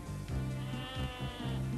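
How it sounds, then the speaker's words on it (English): Sheep bleat loudly and close by, a run of wavering, overlapping calls repeating through the whole short stretch. "look at the sheep."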